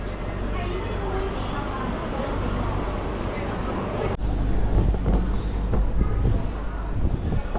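A train rumbles steadily nearby at a station in Singapore, a dense, loud mechanical roar that shifts abruptly in tone partway through.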